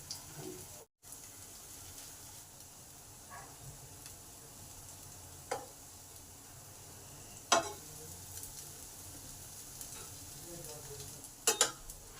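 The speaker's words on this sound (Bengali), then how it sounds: "এক এক করে এইগুলোর বড়া ভেজে নেবো" Soft, low sizzle of lentil fritters shallow frying in oil in a pan, fairly quiet and steady, broken by a few sharp clinks and scrapes.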